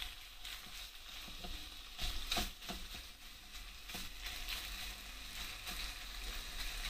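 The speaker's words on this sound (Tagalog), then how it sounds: "i-fry lang natin yan, guys" Chicken frying in a pan, a faint steady sizzle with soft clicks and scrapes of stirring, fairly quiet throughout.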